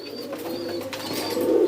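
A small dove gives soft, repeated cooing calls close by, with no other sounds around it.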